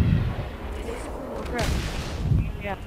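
A grenade blast in a Halo Reach Firefight match: booming explosive bursts and gunfire-like cracks, loud and close, with players talking over the action.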